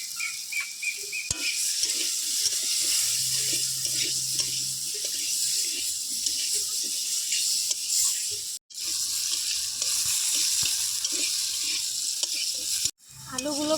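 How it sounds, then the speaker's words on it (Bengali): Potatoes seasoned with turmeric and salt fry in a pan, giving a loud, steady sizzle that runs close and continuous, broken by two brief sudden silences, with no talking. "আলুগুলো ভাজা হয়ে গেছে,"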